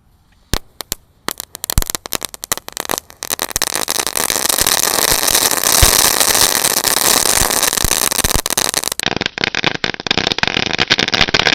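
Four packs of telur komodo firecrackers set off at once: a few scattered pops build into a dense, loud, continuous crackling barrage lasting several seconds, then thinning into rapid sporadic bangs.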